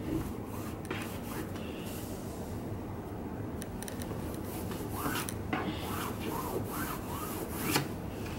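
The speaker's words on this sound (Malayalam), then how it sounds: "ഒരു 1 ഇഞ്ച് വിട്ടിട്ട് കട്ട് ചെയ്യാം" Scissors cut through churidar top fabric at close range, a soft, steady rasping and snipping that continues throughout, with small crisp clicks of the blades and no talking.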